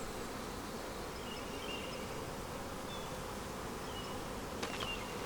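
Honeybees swarm around an opened red hive during spring inspection, a steady, dense insect buzz filling the air close by, with a brief faint tap near the end.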